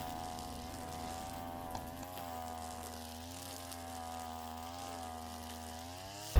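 A two-stroke brush cutter engine drones steadily, its pitch dipping slightly as line load changes and rising again, heard close and alone for several seconds before a sharp noise at the end.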